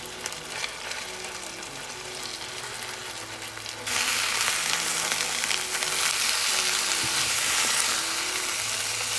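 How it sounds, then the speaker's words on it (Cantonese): Beef pan-searing for Hong Kong style satay beef noodles, a steady close sizzle and frying hiss that jumps louder partway through and holds, with no talking. "而家首先擺咗落去煎封咗一邊先。"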